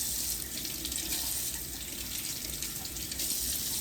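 Cold tap water runs steadily into a sink while watermelon rind is rinsed, a continuous close splashing hiss with no voices.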